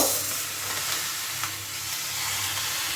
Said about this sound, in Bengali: এইভাবে নেড়ে নেড়ে একটু ভেজে নেব